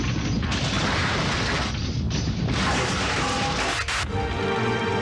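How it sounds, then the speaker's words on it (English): Severe earthquake shaking inside convenience stores, a loud continuous clatter and rattle of goods and fittings with crashing and creaking bursts and a sharp knock near the end. "Suddenly, an earthquake strikes."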